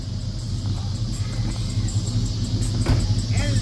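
A GMC vehicle's engine runs with a steady low rumble, close by and fairly loud, with no talk over it.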